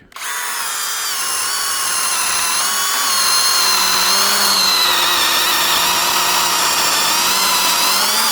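A model 200 saw cuts through a round acacia log, holding a loud, steady high-pitched whine that starts abruptly and rises slightly in pitch and intensity as the cut goes on.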